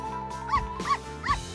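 A dog in a bathroom gives three short whimpering yips in a steady rhythm, fairly close and clear over a quiet background.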